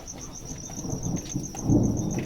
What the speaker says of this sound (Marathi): यो किती गरजत आहे